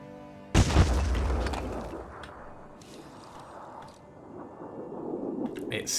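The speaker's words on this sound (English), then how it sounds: "let's take advantage and drop some grenades on it" A grenade blast in the Phoenix Point strategy game lands with a sudden loud boom and rumbling decay, followed by quieter mechanical clatter and rattling debris.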